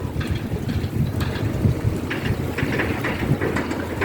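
A tugboat towing a coal-laden barge on the river at Samarinda after rain, heard as a dense, continuous low engine rumble mixed with broadband wind and water noise, steady throughout.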